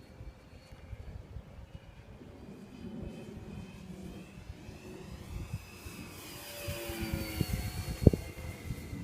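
F-16 fighter jets passing on a windy day, a distant rising jet roar building under heavy wind buffeting, with a sharp gust or thump near the end.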